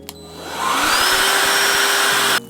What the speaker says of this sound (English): I use a battery powered hoover.